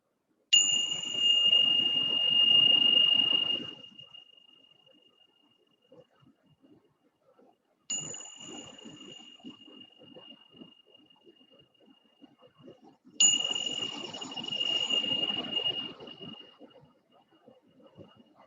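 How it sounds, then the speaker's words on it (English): A meditation bell is struck three times to close a session, each strike a bright ringing tone that decays slowly into near silence before the next. "I'm going to finish with a bell."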